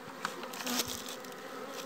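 Enxu bees buzzing close by, a steady droning hum with a few louder passes as insects fly near.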